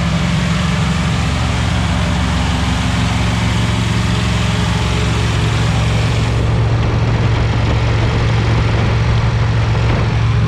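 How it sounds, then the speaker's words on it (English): A small Hemi engine, a 241 Red Ram, runs steadily through cam break-in, its loud continuous low rumble and mechanical clatter holding throughout with no voices. "What in the hell's all that racket? That's a little Hemi."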